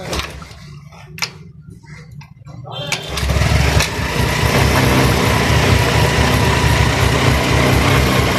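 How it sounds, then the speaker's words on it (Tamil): A scooter is kick-started with a couple of kicks, then its small engine catches and runs with a steady, buzzing idle up close, with voices in the background. "அதனால் இப்போ கிக்கரில் ஸ்டார்ட் பண்ண சொல்லுவோம்."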